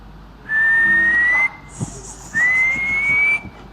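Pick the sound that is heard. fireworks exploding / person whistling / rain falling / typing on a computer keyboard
person whistling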